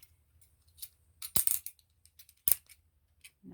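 A blade slicing through fabric for a corner pocket piece on an aging cutting mat, giving a few short, crisp cutting sounds close by with quiet pauses between.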